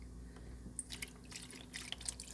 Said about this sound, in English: I'm going to pour that in there because my blender's not big enough to put it all up in there.